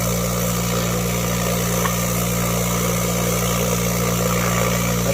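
A Lot-O rock tumbler runs with medium 180-220 grit silicon carbide and rocks, giving a steady, continuous motorized hum and rumble with a faint gritty churn, constant in level throughout.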